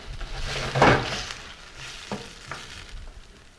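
Wine poured into a hot pan for poached snapper sizzles and hisses as it reduces, with a loud burst near the start that eases into a steady, softer fizz and a few small clicks of stirring.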